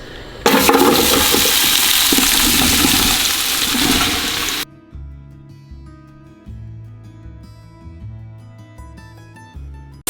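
Vegetables for fajitas dumped into a pot of hot oil burst into a loud, broad sizzling roar for several seconds, which stops abruptly and gives way to background music.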